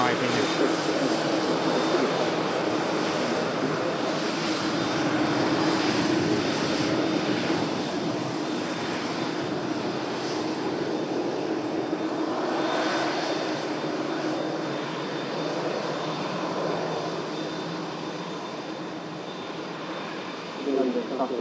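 A jet airliner with rear-mounted engines climbs out after takeoff at Manchester Airport, its engine roar swelling and fading across the runway area, heard from outside, with someone talking over it.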